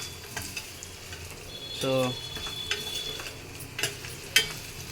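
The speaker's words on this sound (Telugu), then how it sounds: "అల్లం కూడా కొంచెం ఎర్రగా వేయాలంట." Ginger for allam pachadi sizzles in a pan while being stirred, with soft scraping clicks and a quiet steady fry beneath a brief spoken word.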